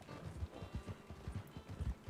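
Horse hooves clip-clop in Red Dead Redemption gameplay, a quick, even run of close, dull thuds with no talk over them.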